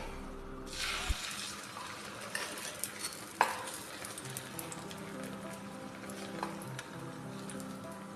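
Batter poured into hot ghee in a frying pan gives a close, steady sizzle that carries on evenly with small spatters and a few light clinks, and no one speaks.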